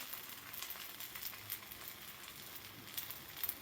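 Sabudana thalipeeth roasts on a tava over medium gas, giving a soft, steady sizzle with faint crackles throughout and no voices.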